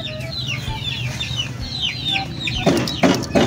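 Chickens cluck repeatedly in short, choppy bursts, fairly close, with a couple of louder scratchy rustles near the end.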